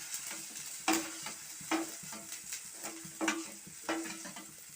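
Chilies and tomato fry in a pan, a soft steady sizzle broken by regular scraping stirs, roughly one every second, close and fairly quiet, with no talking.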